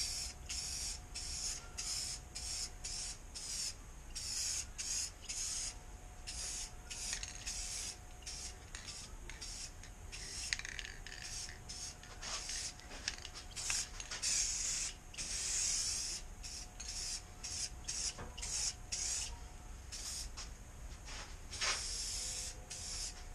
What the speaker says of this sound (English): we're just going to give it a clear coat